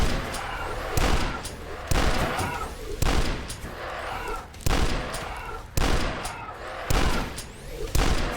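Shotgun blasts in the retro first-person shooter Dusk, eight loud, heavy booms at a steady pace about one per second, each with a short decaying tail of game noise between shots.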